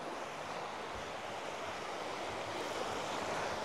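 Ocean waves on a beach at Koh Lanta, Thailand, form a steady, continuous surf wash with a hint of wind, moderately loud and unbroken throughout.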